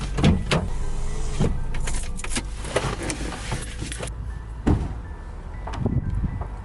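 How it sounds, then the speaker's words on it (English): An electric power window on a car with a broken door handle winds down, a steady motor whine close by, broken by a few clicks and knocks along the way. "I have to wind down the window to get out of the car because the door handle's broken."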